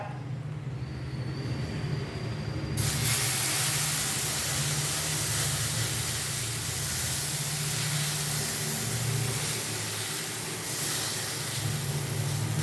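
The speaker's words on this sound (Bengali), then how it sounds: "এবার আমি এর মধ্যে দিয়ে দেবো ওই ব্যাটারটা।" Batter poured into a hot kadai for a one-egg sabudana breakfast, setting off a sudden loud, steady hissing sizzle that holds evenly and close throughout after a quieter start.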